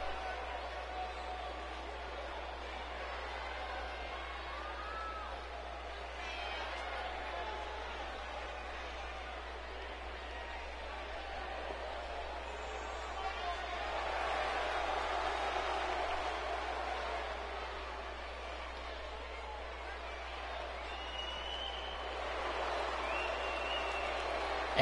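A crowd at a Tri-State Zone Wrestling championship tournament cheers and chants in a broad, steady roar that swells midway and near the end, under an announcer speaking throughout.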